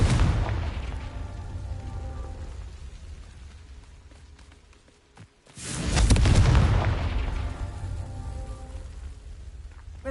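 Two loud, booming blasts of the Confringo fire spell in the Hogwarts Legacy video game, each a broad rumbling explosion, separated by a brief quiet gap.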